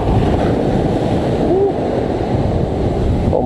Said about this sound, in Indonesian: Ombaknya luar biasa, ombaknya tuh.